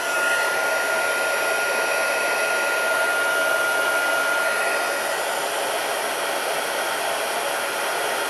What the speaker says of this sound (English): Just heating up my heat gun and the trusty cheese board.